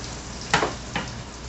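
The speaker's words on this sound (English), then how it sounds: "I'm frying at about 300 degrees." Homemade chicken patties fry in hot oil at about 300 degrees, giving a steady hiss with two sharper crackling bursts close by.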